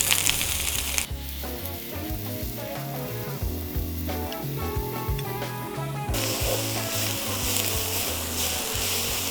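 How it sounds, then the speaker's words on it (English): Onions and pork hit a hot cast iron skillet and sizzle with a loud, hissing crackle throughout, with rhythmic scraping and stirring knocks underneath, close up. "Now we're going to add our onions to a hot cast iron skillet."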